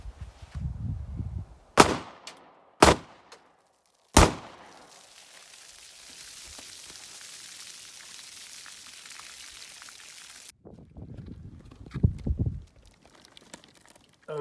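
Three sharp rifle reports from a varmint round at the shooting bench, the third followed by a long hiss and spray of debris as the target bursts apart, then quiet rustling and low handling sounds.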